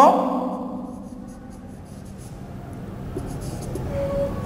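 Chalk scratching and tapping on a classroom board as a teacher writes Bengali words, a close, steady scrape with a loud squeaky stroke at the start, followed by lighter strokes and taps.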